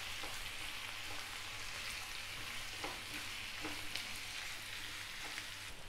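Chopped onions fry on a medium flame for onion chutney, giving a soft, even sizzle with faint spatula scrapes now and then, heard alone and fairly quietly.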